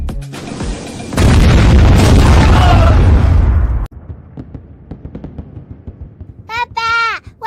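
A tank opens fire from a rooftop in a dramatic action scene, producing a huge sustained roaring blast that rumbles for several seconds and then cuts off. Scattered debris crackles follow, and a voice speaks briefly at the end.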